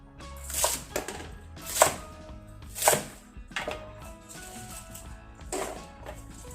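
Several sharp knife chops cut the hard ends off a vegetable on a cutting board, three strong ones spaced about a second apart, then softer cuts follow, close and clear.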